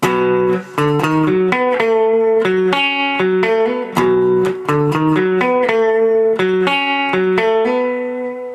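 An electric guitar plays a riff transposed to B for the bridge, a repeating, rhythmic run of picked notes with hammer-ons, loud and clear with no talking.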